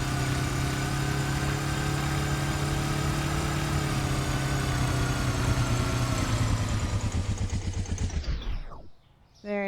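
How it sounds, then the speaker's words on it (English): A noisy scooter engine in Supermarket Simulator drones steadily at a rough, buzzing idle for several seconds, then sputters and winds down abruptly before cutting out, loud and close with no other sounds. "It's an extremely noisy scooter."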